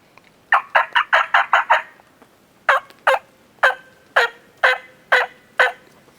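Turkey hen yelps imitated on a mouth call come in two close, clear series, a fast run of about seven sharp yelps followed by a slower, evenly spaced run of about eight, with no talk.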